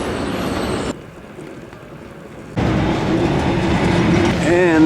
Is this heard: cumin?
no